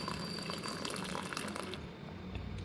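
Reserved cooking water poured from a vessel into a pot while making a Kerala drumstick, cucumber and prawn curry; a steady close splashing pour runs continuously, tapering slightly near the end, with no voices.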